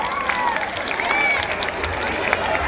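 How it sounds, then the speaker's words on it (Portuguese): A live samba-pagode crowd claps and applauds together in a steady, dense wash of hand claps, with bright crowd noise throughout. "Por favor, gente, palmas, por favor."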